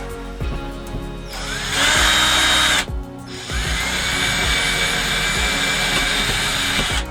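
A power drill bores through thin 1/8-inch luan paneling inside an RV, a loud steady whine that rises in pitch, breaks off briefly, then resumes and runs on alone.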